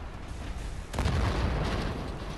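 A grenade goes off in the video game Wolfenstein: The New Order as one sharp, loud boom about a second in, after a quieter rumbling stretch, followed by a sustained low roar that trails off.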